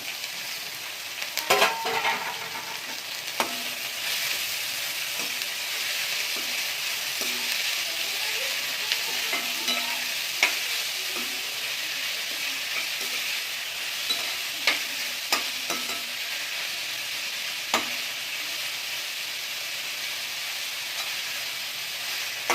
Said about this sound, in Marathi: आता मी त्यामध्ये कांदा टाकणार आहे कांदा हा दोनशे ग्रॅम भरलेला आहे चिरून